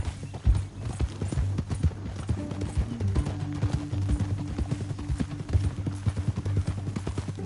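Several horses clip-clop with steady, overlapping hoofbeats at a walking pace, continuous and fairly close, in a Western film scene.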